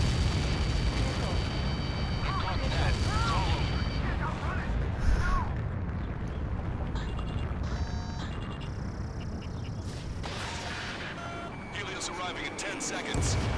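A heavy missile impact rumbles through an Ace Combat 7 battle, a deep sustained roar of explosions and booms mixed with radio voices and beeping cockpit warning tones.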